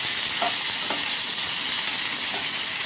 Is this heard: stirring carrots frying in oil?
yes